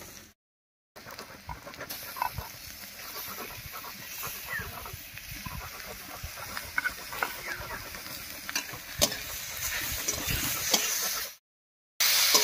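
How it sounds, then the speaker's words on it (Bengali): A steady sizzle of grated cauliflower stalks frying with browned onion, with scraping and stirring against the pan, continuing for several seconds with short breaks at the start and end. "এবার পেঁয়াজের সঙ্গে ফুলকপির ডাটাটা খুব ভালো করে মিশিয়ে নিচ্ছি, আর এই পেঁয়াজের সঙ্গে একটু ভাজা ভাজাও হয়ে যাবে।"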